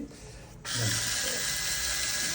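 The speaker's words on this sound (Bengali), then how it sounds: "এভাবে ইম্প্যাক্ট বা কর্ডলেস স্ক্রুড্রাইভার দিয়ে এই কাজটা করা হচ্ছে" A cordless or impact screwdriver whirs steadily while winding wire onto a tripping coil bobbin, starting abruptly after a quiet moment and running loud and continuous close by.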